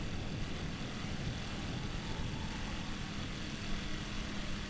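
Small single-engine airplane in Microsoft Flight Simulator 2020, a continuous low propeller drone holding steady at moderate volume, heard alone without talk.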